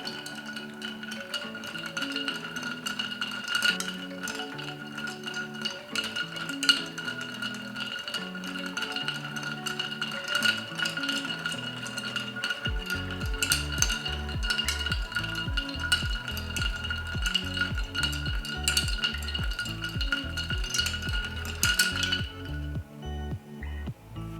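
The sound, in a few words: stirring a Manhattan cocktail of rye whiskey in a mixing glass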